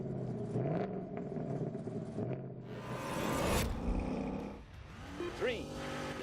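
Sports car launching and revving its engine in The Grand Tour Game video game, a rising engine roar with gear-change dips, heard under steady talking.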